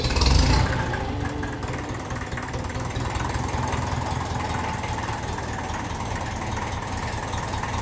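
A 1954 Ferguson TEF 20 diesel tractor engine idles steadily nearby, a continuous low knocking chug that stays even throughout after a brief louder burst at the start.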